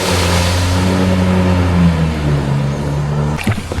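A jet ski engine revs steadily as it is given gas, a loud, close droning with a wavering pitch that dips near the end.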